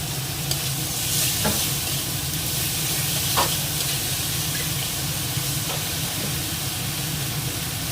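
Chopped onion frying with ginger paste, green chili, garlic paste and tomato in a pan, a steady hiss and sizzle close by with a few faint stirring scrapes.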